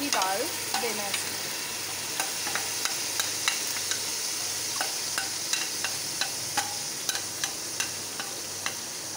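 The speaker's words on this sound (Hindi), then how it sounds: "अब हम डालेंगे लहसुन अदरक का पेस्ट, नमक, ज़ीरा और ये गरम मसाला" Garlic ginger paste frying in a pan with salt, cumin and garam masala, a steady close sizzle broken by repeated sharp spatter pops and the scrape of stirring throughout, with no talking.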